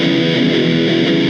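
Overdriven electric guitar playing a blues shuffle rhythm, a short, loud, continuous burst of distorted chordal strumming with no voices.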